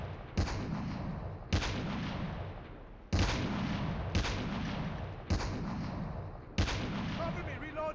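Six loud, booming sniper rifle shots ring out in a shooting video game at an even pace, each followed by a long rolling echo, close and dominant.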